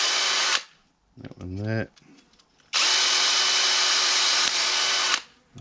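A power drill bores holes in a VW Crafter van body for fitting a Fiamma awning, with two loud, close sustained bursts of whine separated by a brief spoken remark and a short tool sound.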